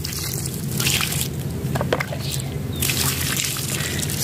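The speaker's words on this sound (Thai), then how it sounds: "ราดลงไปเลยนะคะ บริเวณรังมดนะคะ" Ant-killing solution poured onto an ant nest around a house, a close, wet splashing and dribbling with soft squishy bursts that rise and fall over a few seconds.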